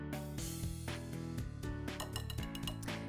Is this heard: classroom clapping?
no